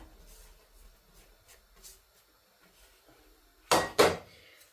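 Fried onions get stirred into a dried prawn sambal in a pan: faint scraping first, then two sharp, close clanks of a spoon against the pan's metal near the end.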